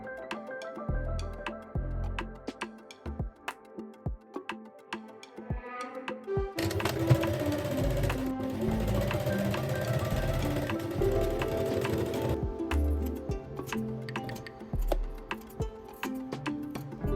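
A sewing machine stitches a waistband onto pleated wide-leg shorts, running in one steady buzzing burst mid-clip, framed by sparse ticks and handling clicks before and after.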